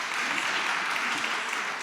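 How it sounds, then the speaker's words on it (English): Audience applause at a seminar on sustainable infrastructure finance, a steady, dense clapping from a room of people that holds at full strength through the short stretch with no voices over it. "One round of applause for our"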